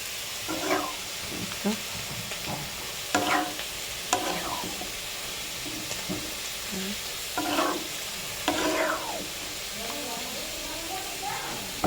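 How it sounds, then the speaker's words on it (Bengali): Chili chicken cooks in a pan with a steady sizzle, broken every second or two by short scraping bursts as the pieces are stirred, close by and at a moderate level. "আর এই পাশে হচ্ছে চিলি চিকেন রান্না করছে"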